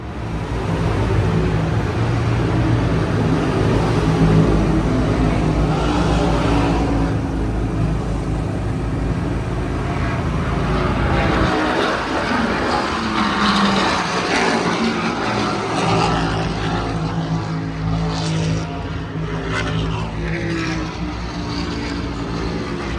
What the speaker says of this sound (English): them cup cars are loud